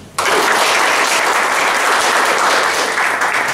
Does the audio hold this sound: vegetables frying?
no